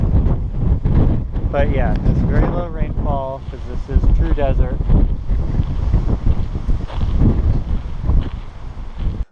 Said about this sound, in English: but also very windy